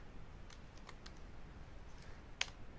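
A few faint, scattered keystrokes tap on a computer keyboard in a quiet room, with one slightly sharper click near the end.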